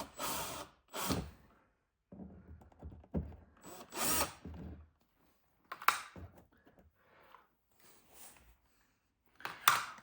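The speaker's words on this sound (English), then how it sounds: "3 holes drilled." Cordless drill boring three holes for mudflaps on a Jeep Avenger, with short close bursts of whirring and grinding separated by pauses and small handling clicks.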